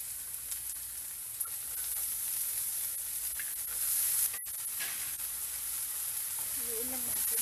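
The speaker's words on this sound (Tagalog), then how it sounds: "Ngayon ilalagay na natin yung ating toge." Bean sprouts (togue) added to a pan of sautéed half-cooked tomatoes for Filipino stir-fry, giving a steady, moderately loud sizzle that continues throughout with no clear talking.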